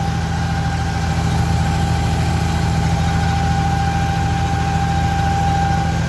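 A small boat engine drones steadily up close, a constant low hum with a mechanical whine and vibration, no breaks throughout.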